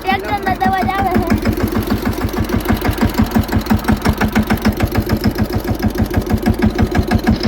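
A tractor engine runs close by with a rapid, steady chugging beat that continues throughout, and a voice is briefly heard near the start.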